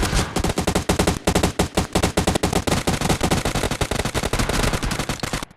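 Rapid automatic gunfire from PUBG Mobile rattles along in a steady, dense burst lasting several seconds, loud and close, with no voices.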